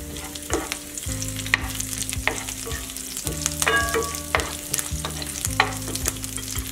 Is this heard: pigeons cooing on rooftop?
no